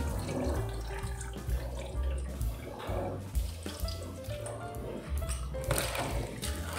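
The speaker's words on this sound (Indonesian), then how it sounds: "Kalau sudah 5 menit kita buang airnya." Soaking water poured off milkfish, a continuous splashing, gurgling stream of water close by, with fluctuating sloshes throughout.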